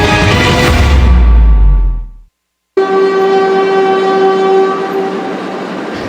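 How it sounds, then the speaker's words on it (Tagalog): A PNR commuter train departs Tutuban Station in Manila with a loud, close rumble that breaks off abruptly, then a long, steady horn blast sounds over the continuing train noise. "Ito na ang mga huling tren na aalis mula dito sa makasaysayang PNR Tutuban Station sa Maynila"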